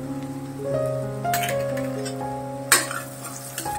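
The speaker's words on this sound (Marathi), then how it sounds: "आता सिमला मिरचीचे बारीक तुकडे करून मी याच्यात घालते।" Chopped capsicum drops into onions frying in a pan, a steady sizzle with a spoon stirring and scraping, a few sharp clinks of utensil against the metal.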